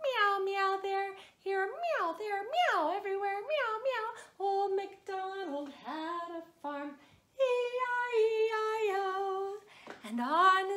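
Child-like voices singing Old MacDonald Had a Farm, with sung meow imitations of a cat sliding up and down in pitch in a lively rhythmic run of short phrases, clear and close.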